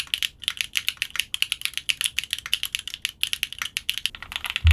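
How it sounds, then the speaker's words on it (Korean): A mechanical keyboard built without foam is typed on in a quick, uneven run of crisp, clacky keystrokes with the switch sound clear, close and alone. "클래키로 빌드하게 되면 폼 같은 것들이 없기 때문에 스위치 고유의 특성과 소리를 느낄 수 있는 장점이 있다고 합니다"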